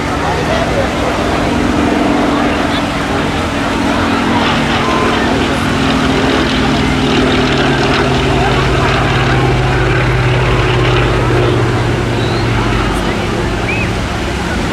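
A Royal Navy biplane at the Bournemouth Air Festival drones steadily with a constant low propeller engine hum and rushing wind, sustained throughout without a break.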